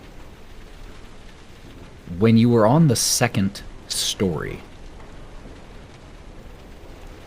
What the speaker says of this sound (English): the sound of the wind and the rain against the window panes is everywhere you go in the house